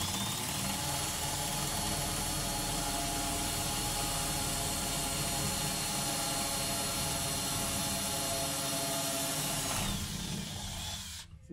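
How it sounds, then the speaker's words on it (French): A power drill bores holes at an angle while fitting out cabin storage in a bus conversion, a loud steady whine that runs continuously for about ten seconds before cutting off. "C'est délicat de faire les trous en biais comme ça parce que souvent ça pète la mèche."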